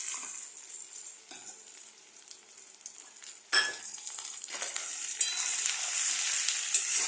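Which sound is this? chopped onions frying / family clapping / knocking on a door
chopped onions frying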